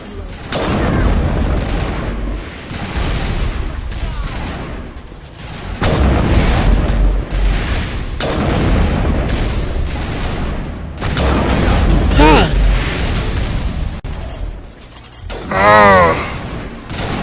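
A battle rages in the Mass Effect video game, with turrets firing and dense booms and explosions, loud and continuous, punctuated by sharp blasts and warbling energy effects.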